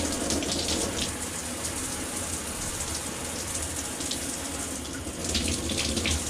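Water runs steadily from a shower and tub faucet just after a Moen 1200 valve cartridge replacement, a close, even rushing hiss with no voices.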